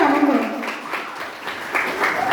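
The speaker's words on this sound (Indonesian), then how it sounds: "Kita berikan tepuk tangan." An audience claps at a school outreach event on traffic safety, anti-brawling and anti-drug awareness held with the police. Uneven clapping rises and falls in bursts while a voice talks over it.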